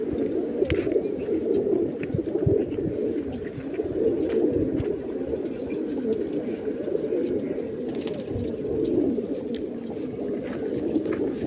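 Pigeons coo steadily in a continuous low, murmuring chorus at a pigeon-keeping setting in Pakistan, with faint background clatter throughout.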